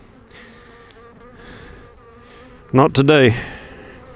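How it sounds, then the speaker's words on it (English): Honeybees buzz in an open hive full of frames packed thick with bees, a low steady hum running under faint background noise, before a voice speaks briefly close by. "There's bees pretty thick in here."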